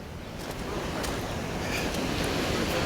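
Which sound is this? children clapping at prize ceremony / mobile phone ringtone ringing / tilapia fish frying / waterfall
waterfall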